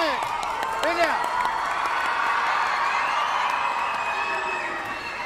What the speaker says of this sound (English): The crowd has turned up here at Patna to support the Indian team.